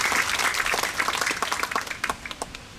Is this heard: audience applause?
yes